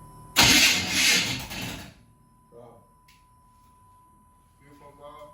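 An engine cranks and fires with a loud, rough burst that lasts about a second and a half, then dies away into quieter clunks and a faint steady tone, with a voice briefly audible afterward.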